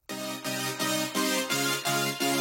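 A synth chords layer plays a short run of rhythmic, bright chord stabs, about six evenly spaced pulses with slight dips between them, close and alone without speech.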